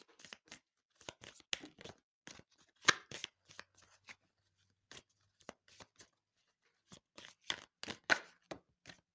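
Shamanic crystal oracle cards are shuffled and drawn, making sparse, crisp papery flicks and snaps in short irregular clusters, close and quiet, with silent pauses between them.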